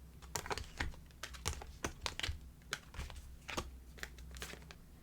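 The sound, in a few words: tarot cards being drawn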